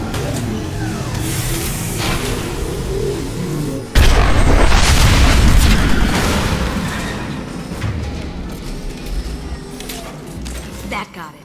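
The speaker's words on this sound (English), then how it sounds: "It'll take heavier weapons than that to blow those tanks." Tanks blowing up in Mass Effect 2, a sudden loud blast that hits hard and rumbles on, slowly decaying over several seconds amid ongoing battle noise.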